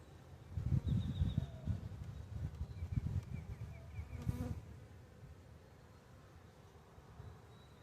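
Dense buzzing of honeybees inside a hive during a one-week inspection of a newly installed package colony, a steady close drone with brief louder swells early on.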